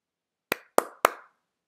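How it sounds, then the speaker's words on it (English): Three sharp, close hand claps ring out in quick succession, about a quarter second apart, each a crisp snap with a short room decay, surrounded by silence. "You will hear a clap at some point."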